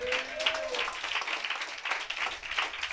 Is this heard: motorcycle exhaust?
no